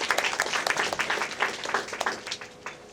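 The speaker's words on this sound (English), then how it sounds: "let's give a warm round of applause and welcome to all our speakers" Audience at a human rights event applauds to welcome the speakers: dense, steady clapping from a crowd, moderately loud, filling the whole stretch and thinning slightly toward the end.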